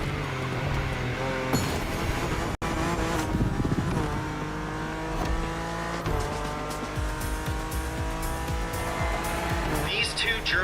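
German sports cars race in The Crew Motorfest video game, with loud engines revving through rising and falling gear changes and tires squealing, continuous and close throughout.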